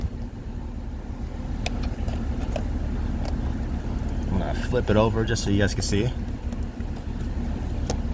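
A parked Toyota RAV4 5th gen idles with a steady low engine hum beneath close talking, plus a few light clicks and handling noises.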